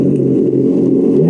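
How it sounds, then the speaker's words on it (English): A truck engine sound effect from a HillMiles Pop1 mini electric dirt bike rumbles in a steady low drone, loud and close, continuous through the short moment. "That also sounds like a truck."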